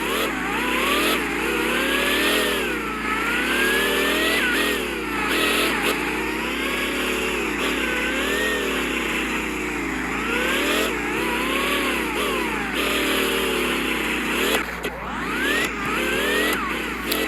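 Video game vehicle engines revving through a Vehicle Legends circuit race, a continuous loud whine rising and falling with each acceleration and gear change, no talking.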